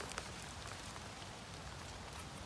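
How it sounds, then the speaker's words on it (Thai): Steady rain patters on leaves and ground in a forest during mushroom picking in the rainy season, a dense even hiss throughout with no talk. "เสียงฝนขาบขาบมาอีกละ"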